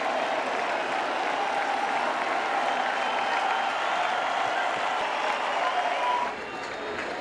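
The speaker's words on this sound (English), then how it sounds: "And they're starting the applause" Big stadium crowd at Fenway Park applauding and cheering in a steady, loud roar of massed clapping that holds for about six seconds, then thins slightly near the end.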